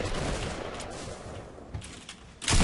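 Gunfire in Fortnite crackles in rapid bursts, some shots distant and muffled, ending in a louder close volley.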